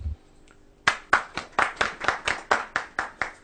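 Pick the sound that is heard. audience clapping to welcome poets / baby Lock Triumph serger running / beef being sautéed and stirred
audience clapping to welcome poets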